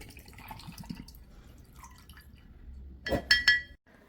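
White Label whisky, about 60 ml, poured into a glass with ice: a quiet trickle and faint clinks give way to a brief louder splash and ringing chink of liquid hitting ice and glass near the end.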